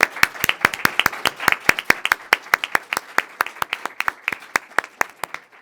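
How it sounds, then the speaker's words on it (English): Steady applause at a forum on Afghan women's rights, made of distinct crisp hand claps at a brisk, fairly even pace from a small group, close and clear, with no voices over it. "I'd like to first applaud you."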